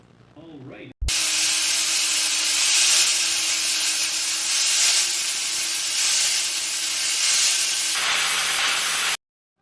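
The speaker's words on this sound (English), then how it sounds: "use my grinder and some sandpaper to clean that up a little bit" An angle grinder with an abrasive disc scours a scrap-metal axe head in a garage, a sudden loud, steady rushing whine with a sustained tone that runs for about eight seconds and then cuts off, after a brief spoken moment at the start.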